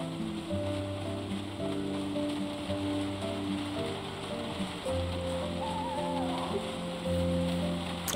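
Steady rain falls in the Project Zomboid video game, a soft continuous hiss beneath looping, sustained background music, with no voices.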